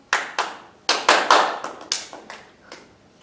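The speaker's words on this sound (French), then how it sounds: "Ça mérite des applaudissements." Applause from a small group at a theatre school performance, a handful of separate sharp bursts of hand claps that start and stop irregularly, close and fairly loud, each burst fading quickly.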